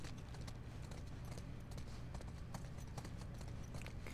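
Horse hooves clip-clop steadily in the video game The Last of Us Part II, a continuous run of quiet hoof beats with no talking.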